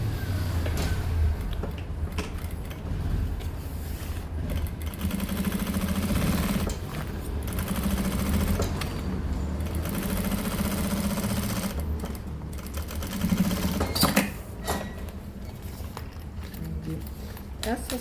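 A sewing machine stitches down the strap of a fabric toiletry bag, running in a steady continuous whir with brief pauses, close and moderately loud.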